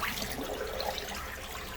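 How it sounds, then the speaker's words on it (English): Water runs steadily down a urinal during a plumbing repair, making a soft, continuous wash and trickle at low level with no talking. "Get yourself plenty of water down the urinal."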